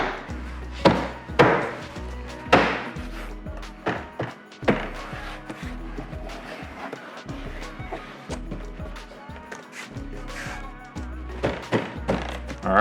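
Pounding a BAVSOUND Stage 1 speaker panel into place in a BMW F33, a series of loud, hollow wooden-sounding thumps and whacks spread irregularly through, close and alone with no talk.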